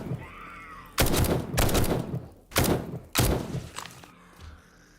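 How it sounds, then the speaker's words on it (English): Gunfire in a zombie video game: several heavy, booming bursts of shots in quick clusters, loud and close, separated by short quieter gaps with faint background noise. "Coming to the gunshots."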